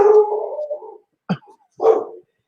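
An indoor dog in an apartment building lets out a drawn howl, then two short, sharp barks after a brief pause, close and loud.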